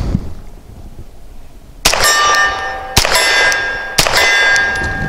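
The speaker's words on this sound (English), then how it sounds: "You could hear the delay between the shot and the hit and the steel." A Langdon Tactical 92 Elite pistol fires 165-grain subsonic rounds at a steel plate about 25 to 30 yards out, giving three sharp, ringing metallic clangs roughly a second apart, each followed by a lingering ring.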